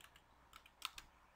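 Soft keystrokes on a computer keyboard, a handful of quiet clicks with a couple of slightly sharper taps near the end.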